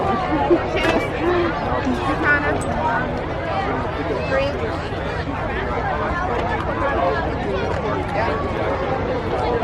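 Dense crowd chatter from many people at a 4th of July Independence Day fireworks show in Layton, Utah, a steady babble of overlapping voices throughout with no single voice standing out.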